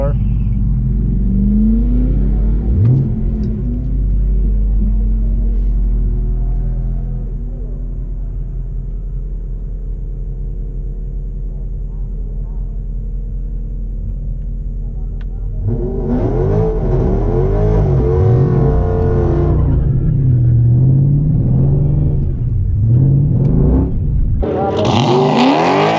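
A 2006 Chrysler 300 SRT8 at a drag race rumbles loudly at idle, then launches into a roaring burst of acceleration before the sound shifts and rises again near the end.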